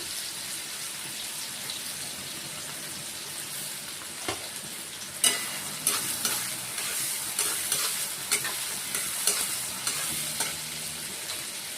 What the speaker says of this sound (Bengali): এখানে আমাদের তেলটা গরম হয়ে গেছে, আমরা পেঁয়াজটা এখানে দিয়ে দিলাম।